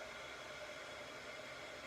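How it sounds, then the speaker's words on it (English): An embossing heat gun runs with a continuous airy rush, unchanging in level from start to finish, soft and uninterrupted by voices. "This is just a heat gun. It's an embossing tool."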